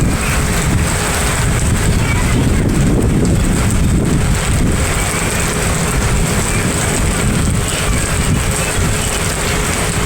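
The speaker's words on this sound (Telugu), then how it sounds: "గాలి కూడా వస్తూ ఉంది." Wind buffets the microphone in a loud, constant rush during a rainy spell, with no break across the stretch.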